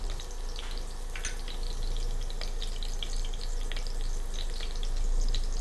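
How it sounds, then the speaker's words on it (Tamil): Garlic frying in oil in a pan, a soft, steady sizzle with scattered crackles and pops, fairly faint and close, with no talking. "பூண்டு அப்படியே எண்ணெயில் வேகும்."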